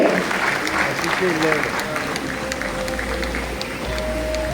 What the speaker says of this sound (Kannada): once again ಜೋರು ಚಪ್ಪಾಳೆ.